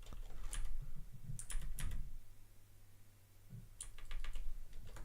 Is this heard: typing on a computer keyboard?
yes